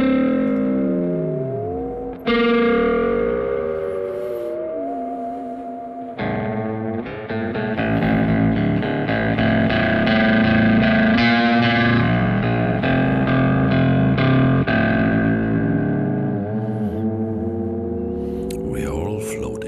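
An electric guitar plays through a special wah effect on a Kemper Profiler, with bending sustained notes and thick chords that swell and sweep in tone, loud and continuous with no talking.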